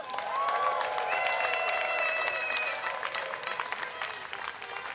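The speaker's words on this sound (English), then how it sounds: "So give yourselves a round of applause." At a Pride parade rally in Concord, a crowd applauds in a sustained outdoor round of clapping mixed with cheers and scattered whoops, gradually thinning toward the end.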